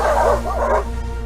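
A dog yips and bow-wows loudly and close over a steady low hum, a couple of quick rising barks in a row.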